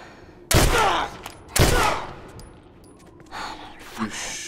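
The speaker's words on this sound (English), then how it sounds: "Two shots." Two loud, sharp gunshots in The Last of Us Remastered ring out about a second apart, each with a long echoing tail, then softer movement and a faint breath follow.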